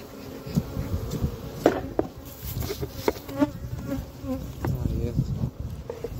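Bees buzz continuously around blossoming almond trees during pollination in a California orchard, a dense, droning swarm with individual insects flying close past, louder and softer in waves.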